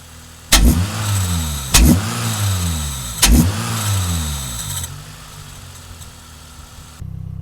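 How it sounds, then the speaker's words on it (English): A warmed-up Toyota Corolla T Sport engine fitted with a Pipercross induction kit is revved three times in quick succession, each sharp rise falling back to a steady idle, close and loud. "she's warm enough to give her some light revs, so I'll let you guys hear some of that now"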